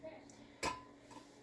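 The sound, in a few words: big cast iron pot being handled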